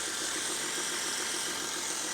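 A 2011 Volkswagen Touareg's 3.0 V6 TDI diesel engine idles steadily and evenly, with a smooth low rumble and constant hum, heard up close with no voices.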